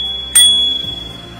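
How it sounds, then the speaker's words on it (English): A single bright ding from the small integrated bell on a Cross E Wave electric bike, struck once and ringing out with a clear decaying tone, close and alone. "It has a little integrated bell."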